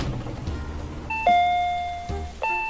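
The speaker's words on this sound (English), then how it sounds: "Stop playing with the fucking doorbell" An electronic doorbell in a homemade video game rings again and again, with several clear, close ding-dong chimes sounding one after another. No one talks over it.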